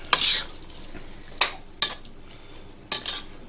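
Garam masala being mixed into chicken vegetable kurma in a pan: a few separate scraping and clinking spoon strokes against the pot, close and sharp, over a low background bubble.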